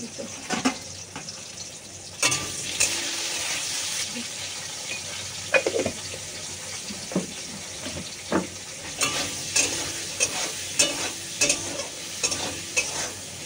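Vegetables, potatoes with salt and turmeric, fry in a hot pan with a steady broadband sizzle, broken by frequent scraping strokes of a spatula stirring them, close and fairly loud throughout.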